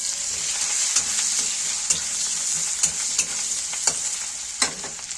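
Chopped onion and a green chili frying with white cumin in a pan, a steady bright sizzle punctuated by regular scraping stirs every second or so, no talking.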